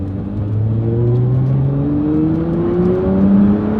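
A 2013 Nissan GT-R engine roars close and loud, pitch rising steadily through the gears as it accelerates hard, no voices.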